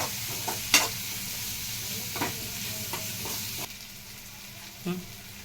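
Garlic paste, turmeric and salt stirred in a sizzling frying pan, a steady close fry with a few scraping spoon strokes and clinks over it.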